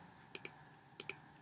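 Four quick, light mouse clicks in two close pairs, spaced well apart, sound faintly over a quiet room hum while working on a computer in Xcode's Interface Builder.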